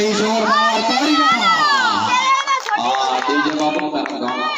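A crowd at a match shouts and cheers loudly and continuously, with high excited voices layered over the steady roar and a brief dip partway through.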